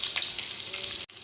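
Shallots frying in hot coconut oil for a Kerala-style fish curry, a steady close sizzle and crackle that runs unbroken, then drops out briefly near the end before resuming.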